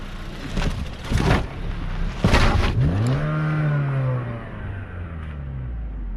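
A Honda Fit rolls slowly over plastic lift spikes, its engine revving and rumbling up close while a tire thumps onto the ramps and a low whine rises and settles.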